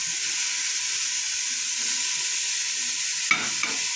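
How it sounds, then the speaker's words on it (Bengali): Mutton pieces fry in a hot pan with onions and spices for a stew, giving a loud continuous close sizzle with a steady hiss and two brief stirring scrapes near the end, without speech. "এবার আমি এই 300 মাটন দিয়ে দিচ্ছি।"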